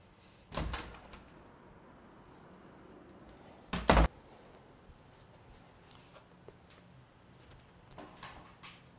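A door is handled indoors: a sharp knock or bump comes early, then a louder double clack as it opens, followed by faint rustles and small knocks in a quiet room.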